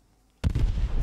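A Panzer IV tank gun fires in the video game Post Scriptum, one sudden loud boom breaking out of near silence, followed by a rumbling decay.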